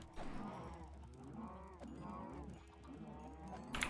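Cows in a Minecraft modpack moo several times in a row, drawn-out tonal bellows of steady loudness overlapping one another, with no talk.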